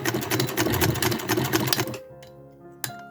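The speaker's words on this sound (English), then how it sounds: "I'm going to start sewing here" A Victorian-style sewing machine stitches lined fabric with matching thread in a steady, rapid run of needle strokes for about two seconds, then stops, leaving a faint mechanical hum and a single small click.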